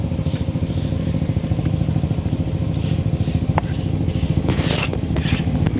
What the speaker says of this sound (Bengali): মশলাগুলো ঠিক এরকম করে গুঁড়ো করে নিতে হবে।